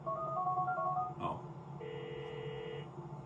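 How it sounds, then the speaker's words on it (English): A mobile phone call in the video game Grand Theft Auto IV: a few quick electronic keypad-like tones, a short click, then one sustained buzzing ring tone over low game background noise. "Is there gonna be a phone call?"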